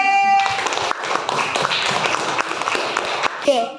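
A class of young schoolchildren in group B clap their hands together in a fast, steady, patterned rhythm, loud and close, while a voice speaks over the clapping.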